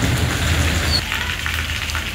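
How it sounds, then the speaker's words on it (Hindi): Monsoon rain falls across Punjab, Pakistan, as a steady, dense hiss of broadband noise that holds at a constant level throughout with no voices. "पंजाब के दीगर इलाकों में भी मानसून की बारिशें शुरू हो गयीं"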